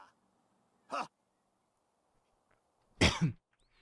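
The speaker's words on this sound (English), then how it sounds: "there's one of the coughs I cut out" Two separate short coughs break an otherwise quiet background, about two seconds apart. The second is louder and slightly longer, and both sound close to the microphone.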